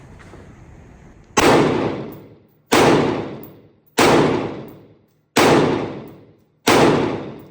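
Five unsuppressed gunshots are fired at 25 yards, evenly spaced about 1.3 seconds apart. Each is a loud, sharp crack that rings out and decays over a low background hiss.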